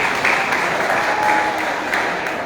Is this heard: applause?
yes